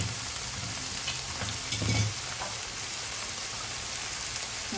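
Shrimp frying in oil in a pan, giving a steady, close sizzling hiss that runs unbroken throughout, with a few soft pops and bumps underneath.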